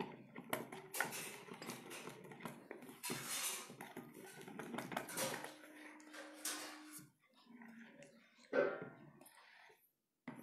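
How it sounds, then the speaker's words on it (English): A whisk clinks and scrapes around a bowl, mixing chocolate truffle cake batter of condensed milk and butter, in quick irregular strokes heard under a speaking voice. "Now we'll use our regular whisk to mix this properly"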